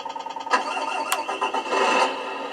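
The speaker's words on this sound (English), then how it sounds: "the engine starts." An RC car engine cranks with rapid rhythmic ticking, then catches and runs with a buzzy, rising whir, close and fairly loud.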